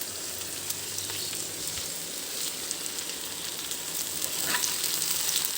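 Potatoes and beetroot fry with curry leaves in a pan, making a constant close sizzle with a soft hiss and scattered small pops. It swells slightly toward the end, and no one speaks.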